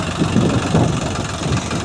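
A tractor engine chugs steadily at idle with a low, rhythmic pulsing, close by and continuous throughout in a field, no voices.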